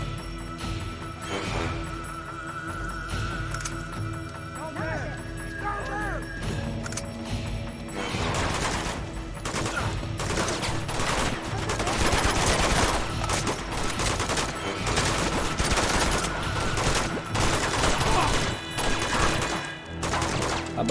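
Dense, sustained gunfire in Uncharted 2, with rapid bursts and crashes piling up into a loud, continuous firefight that intensifies midway through.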